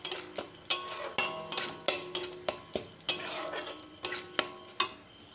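A spoon stirs biryani masala and spices in a cooking pan for a paneer rezala, clinking and scraping in a steady run of about a dozen close strokes over a low sizzle.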